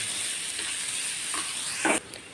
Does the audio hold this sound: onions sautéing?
yes